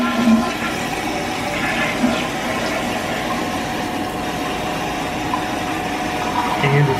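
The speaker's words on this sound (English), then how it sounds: "Let's go ahead and try and flush it." A toilet flushes after its flush valve has been replaced, a steady rushing wash of water that runs for several seconds at close range, with no voices over it.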